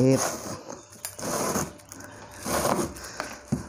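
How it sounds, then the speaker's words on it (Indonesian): A seedling shipping package is stitched shut, giving two rough, rasping bursts of sewing noise separated by short pauses, close to the microphone. "kita jahit pemirsa biar kuat ya"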